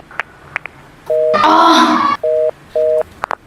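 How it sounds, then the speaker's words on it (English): Short, evenly spaced beeps of a telephone busy signal repeat, briefly interrupted by a louder, buzzy burst of sound. "The line is busy"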